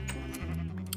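A sheep in the video game Minecraft gives a short pair of bleats, close and clear over a steady low background hum, within about a second.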